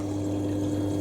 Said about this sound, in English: Hot water in.